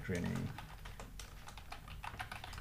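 Rapid clicking of a computer keyboard as JavaScript code is typed, close and fairly quiet, with a short burst of speech at the start.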